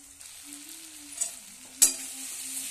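Spice paste frying in a pan, a faint steady sizzle with a low hum running through it and a single sharp clink of a utensil partway through, with no speech.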